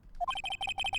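Electronic ringtone of a phone ringing in the Ace Attorney video game, a rapid repeating pattern of bright chirpy tones pulsing about ten times in a second, clear and alone.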